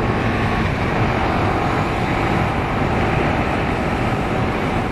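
A 2017 KTM Super Duke GT motorcycle out on a ride, heard as a steady, loud roar of engine and rushing wind that holds unbroken throughout, with no talking.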